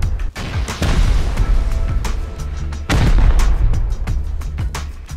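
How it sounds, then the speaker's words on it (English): Rocket blasts slam into a wall in the survival game Rust, several heavy booms arriving loud and close in quick succession, with rumbling debris and crackle filling the gaps between hits. "Let's shoot a rocket each at this wall."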